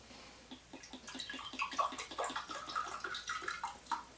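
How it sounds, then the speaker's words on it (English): Ilford Rapid fixer being poured from a bottle into a test container, a quiet, close, gurgling trickle of liquid with small glugging pulses that grows slightly fuller midway. "What I'm going to need to do is pour some of it out"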